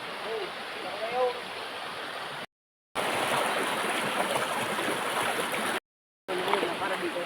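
Swollen river water rushing after rain, a loud steady broadband roar broken by two short gaps, with faint chirp-like sounds near the start and end.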